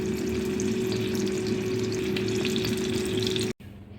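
Bread tikki shallow frying in a pan, a steady dense sizzle and crackle of hot oil that runs evenly, then cuts out abruptly near the end before a quieter hiss resumes.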